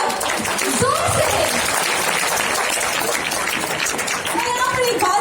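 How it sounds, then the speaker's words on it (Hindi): Audience applause fills a World Vitiligo Day celebration hall, dense continuous clapping throughout, loud and near, with some crowd voices and cheers mixed in. "क्या जोरदार तालियां हो जाएंगी एक बार जोर से?"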